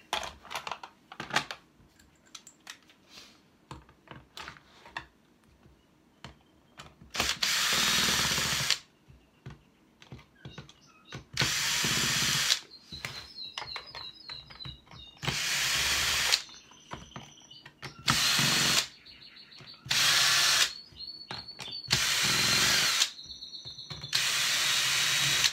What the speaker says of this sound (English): the screwdriver for this one. It's gonna take too long anyway.